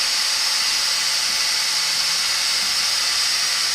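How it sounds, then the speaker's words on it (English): A wood lathe spins a small bud vase while a Nyweb abrasive pad sands it, giving a loud, constant hiss and whir with no breaks. "Get the lathe spinning. And then just lightly cut that back."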